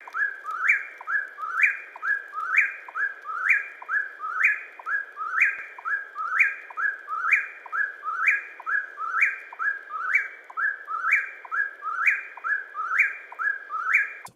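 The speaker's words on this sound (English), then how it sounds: "That is the eastern whippoorwill, and what you just heard is literally its own name." An eastern whippoorwill calls at night, repeating its three-part whistled phrase over and over in a steady rhythm, clear and close against a quiet background.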